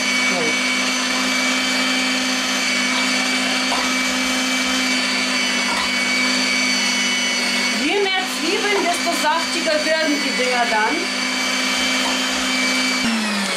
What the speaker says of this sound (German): Und jetzt lasse ich das Ganze hier mal einfach durch den Fleischwolf